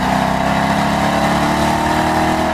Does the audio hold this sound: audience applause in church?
no